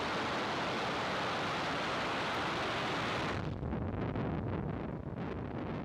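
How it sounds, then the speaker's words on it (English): SpaceX Falcon 9 rocket carrying Starlink satellites lifting off from Vandenberg: a loud, continuous broadband roar fills the whole clip, then turns rougher and crackling as the engines climb away. "Ignition and liftoff"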